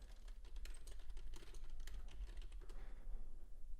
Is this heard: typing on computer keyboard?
yes